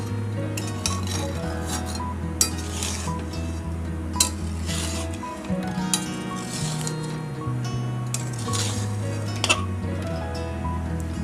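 Wax gourd murabba being stirred in thickening sugar syrup in a pan, with repeated clinks and scrapes of a spoon against the metal over a low, steady hum.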